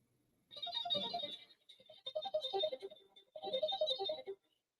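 A phone ringtone from an incoming call plays a melodic tune in three bursts with short gaps, fairly close and clear with no talking over it.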